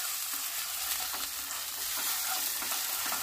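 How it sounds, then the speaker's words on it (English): Green mung kadhi being stirred in a pan on the stove, a steady scraping and swishing under a continuous low sizzle, close and even throughout with no talking. "Stir it well."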